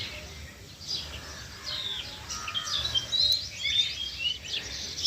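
Sparrows in a tree chirping and twittering together in busy, overlapping bursts, moderately close, with faint background hum and no talking.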